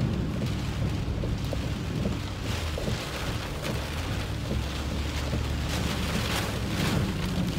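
A vehicle drives through flood water during a tornado-warned thunderstorm near Fort Smith, Arkansas, with heavy rain, splashing and wind roaring continuously and loudly close by.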